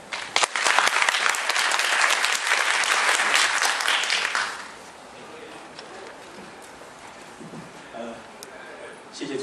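Warm, dense applause fills a seminar hall at a 2018 New Taipei BIM smart-city conference as the chief secretary is welcomed. It runs strongly for about four seconds, then stops abruptly and leaves a quiet room.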